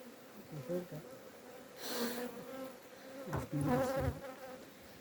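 Honeybees buzz close by in a busy swarm during hive inspection, several droning tones overlapping and shifting as individual insects fly past the microphone.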